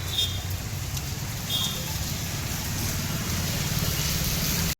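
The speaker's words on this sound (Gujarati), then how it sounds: "તે પાછો વરસાદ શરૂ થઈ ગયો" Rain starting up again in the town of Amreli, a steady broadband hiss holding for the whole stretch over low traffic rumble from the street, with a couple of brief high tones cutting through early on.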